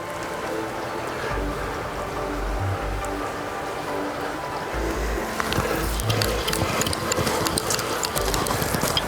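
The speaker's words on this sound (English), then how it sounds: "Now we're at that point where we do wind that line in" Fishing reel clicking steadily as line is wound in on the Mataura river in Southland, a continuous ratcheting rattle heard close against outdoor background noise.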